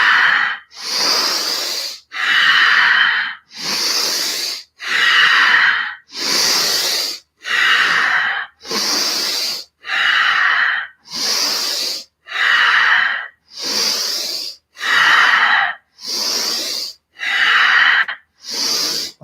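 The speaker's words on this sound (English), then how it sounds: "So 9 deep breaths." Deep breathing exercise with forceful exhales through pressed lips: about fourteen long, loud breaths in a steady rhythm, each a breathy hiss close to the mic, with short silent gaps between them and no talk.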